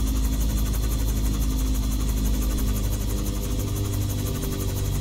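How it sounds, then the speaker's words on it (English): Simulated FA Tensor 600X aircraft engine in X-Plane running at very low throttle, a steady loud drone with constant vibration and no voices. "Engine off sort of thing, or engine virtually very low."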